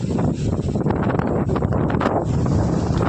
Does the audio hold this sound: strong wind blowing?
yes